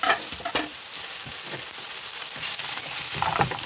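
Chopped onion and a garlic clove frying in a little oil in a pan, a constant bright sizzle with soft crackles and occasional stirring clicks, close and fairly loud, with no talking.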